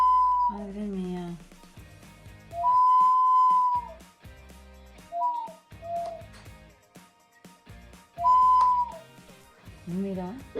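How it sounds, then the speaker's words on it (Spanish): A zoomorphic ceramic water whistle vessel, with water pushing air through whistles inside the figure's head, gives wavering, warbling hoots that rise and fall in several separate calls, resembling an animal cry, with voices speaking between them. "el agua empuja el aire que acciona los silbatos que están dentro de la cabeza de esta figura zoomorfa"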